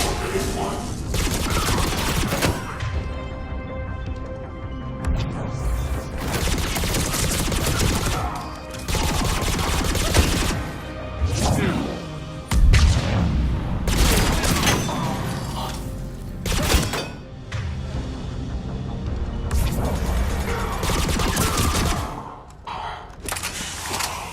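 Sustained gunfire against a turret during Mass Effect 3 combat, dense bursts of shots and impacts rattling almost nonstop with brief pauses, loud and close, with voices calling out in between.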